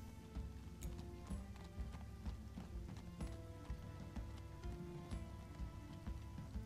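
Horse hooves clip-clop in the video game Minecraft Story Mode, a steady rhythmic run of hoof knocks over a dense, rain-like background wash, moderately loud throughout.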